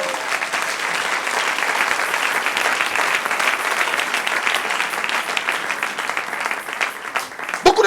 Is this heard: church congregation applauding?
yes